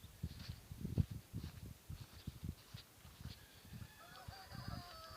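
Farm poultry in the chicken corner of a growing farm give a run of honking, clucking calls, moderately close and uneven in rhythm, with a faint higher tone near the end.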